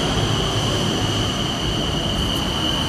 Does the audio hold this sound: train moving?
yes